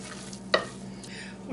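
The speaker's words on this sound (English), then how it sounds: "We're going to mix this all up really good, and then it's ready for the oven" A spoon stirs beaten eggs through a bread stuffing mixture in a bowl, a soft wet squishing scrape with one brief louder clack partway through, close and quiet, no voices.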